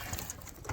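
A lively, hot-tempered Andhra female pigeon and other pigeons coo faintly in a short, quiet burst, with no talking.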